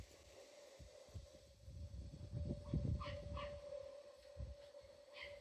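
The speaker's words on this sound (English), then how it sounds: "There's a very angry little tiny bitty puppy next door." A small, angry puppy barks from next door, distant and faint, with scattered yips and whimpers in short bursts over a steady background hum.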